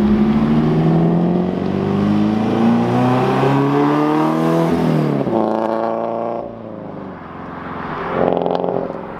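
Subaru BRZ fitted with a Karma center exit exhaust revving hard, a loud raspy engine note climbing in pitch, dropping off, then blipping again near the end.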